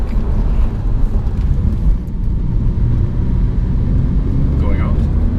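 A Porsche 911 (997) Carrera with a six-speed manual gearbox under full acceleration: a loud, steady low exhaust roar from inside the car that holds throughout, with talk over it.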